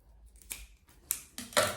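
Scissors snip through a metal zipper trimmed for a sewn carry-on travel bag: a few sharp, close cutting clicks spaced apart, with no talking.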